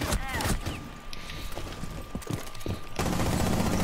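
Rapid bursts of gunfire from a shooter video game crackle in quick succession under a player's voice, then a louder dense barrage near the end.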